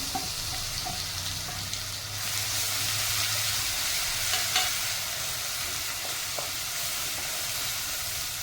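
Ground whole-spice paste (khada masala vaatan) for a Konkani black-pea usal sautés in a pan, a close, continuous sizzle with stirring scrapes, a low rumble fading early and a few soft clinks.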